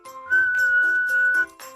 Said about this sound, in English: What if we all whistled in unison?